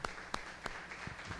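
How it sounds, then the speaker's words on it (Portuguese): A church congregation claps in rhythm during a sermon, faint, evenly spaced hand claps over a low murmur of the room. "Aplaude ao Senhor."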